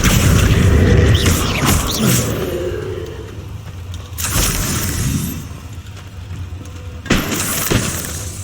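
Three separate Confringo spell blasts go off in the Hogwarts Legacy video game, each a sharp shattering boom followed by crackling rumble, spaced a few seconds apart over continuous background noise.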